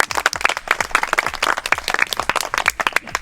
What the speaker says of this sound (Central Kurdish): یەک چەپڵە بێزی بۆ لێبەر